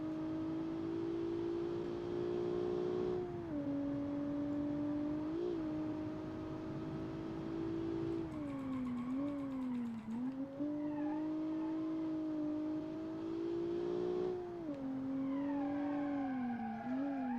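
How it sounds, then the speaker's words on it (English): Simulated car engines in the driving game BeamNG drone steadily and loudly throughout, pitch rising and dipping with shifts and acceleration, with occasional tyre squeal while cornering. "I like the way they implemented the sounds though, the engine sounds."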